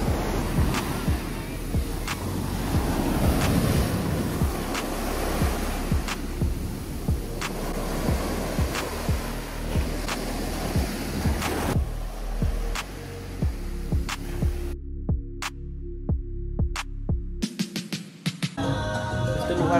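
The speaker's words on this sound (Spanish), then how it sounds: "Y atrás tenemos las olas." Broadband ocean surf washing steadily onto a Miami, Florida beach, a continuous loud roar with wind noise up close, cutting off abruptly near the end.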